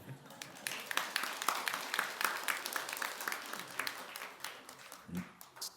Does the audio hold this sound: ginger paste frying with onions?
no